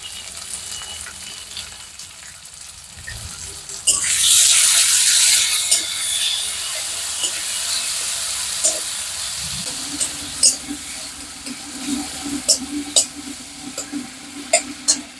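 Salted tomato frying in a hot pan during home cooking, a loud burst of sizzling as it hits the oil, then steady hissing with occasional sharp crackles and stirring clicks.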